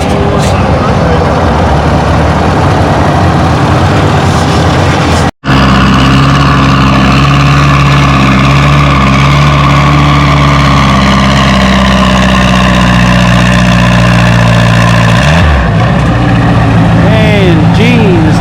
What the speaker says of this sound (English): we got the next tractor on the sled coming up